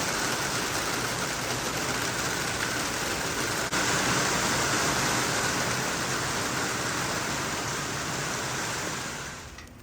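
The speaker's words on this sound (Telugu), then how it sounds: "వర్షం కూడా స్టార్ట్ అయిపోయింది, చినుకులు పడుతున్నాయి." Steady rain falls in a garden as a dense, even hiss of drops throughout, fading slightly at the very end.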